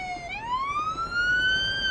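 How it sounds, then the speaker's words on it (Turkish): Ambulance siren in the Police Simulator: Patrol Officers video game, a steady electronic wail that dips and then rises into a long sustained tone, moderately loud with no talking over it. "Ambulans geliyor."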